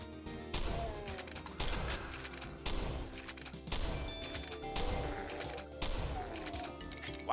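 Doom WAD weapon fire with a Star Wars-style blaster sound repeats in regular loud bursts about every 0.7 seconds, each shot a sharp zap with a thumping impact, with no one talking.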